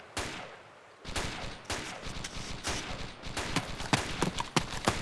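Gunfire in the ArmA2 Project Reality military game: a burst of sharp shots opens after a short quiet pause, then repeated cracks and rattling volleys continue at moderate distance through the rest of the stretch.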